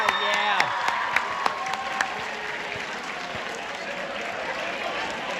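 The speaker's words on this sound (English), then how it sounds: "one more round of applause for our guests" Students at a school assembly applaud their guests in a large room. The clapping is loud and continuous, with scattered cheers and a few voices over it at the start, then it settles into an even, sustained round.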